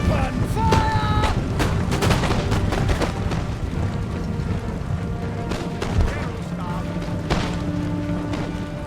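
Musket volleys and battle noise from Empire: Total War line infantry at a fort, with loud overlapping cracks and booms, some tonal game sounds, and someone talking over the fighting.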